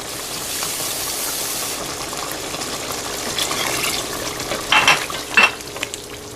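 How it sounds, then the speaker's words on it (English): Water is poured into a simmering pot of goat curry, a steady wet sizzle and stirring hiss with a few louder splashy bursts near the end, close and alone. "we're just going to add a little bit more water so this doesn't dry out"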